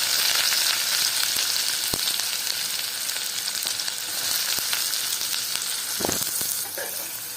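Onions frying in a pan of hot oil with lentils, a dense continuous sizzle and crackle, close and fairly loud, with occasional clicks of stirring.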